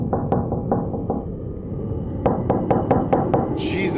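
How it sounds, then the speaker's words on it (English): Sharp knocks on a door in a horror video game, a first irregular run of raps and then a louder rhythmic series of about six hits over a dense rumbling game soundscape. "that knock was messing me up."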